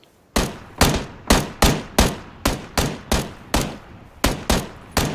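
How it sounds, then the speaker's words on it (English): Rapid gunfire in the PUBG battle royale video game: a string of about a dozen loud, sharp shots in quick, slightly uneven rhythm, close and dominant with no talking over them. "We're getting shot at."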